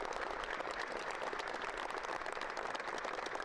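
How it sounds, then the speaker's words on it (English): A football team gives itself a sustained round of applause, dense steady clapping from many hands, heard somewhat distant and faint. "y'all give yourselves a round of applause"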